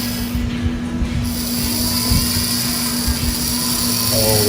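An Aurora T-Bird slot car's small electric motor whirs steadily with a constant hum and a faint high whine, rattling mechanically throughout without letting up.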